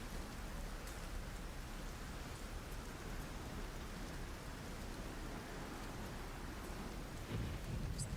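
Heavy rain drums steadily on a tin roof, a dense continuous hiss and patter with a low rumble underneath, loud and unbroken, with no voices.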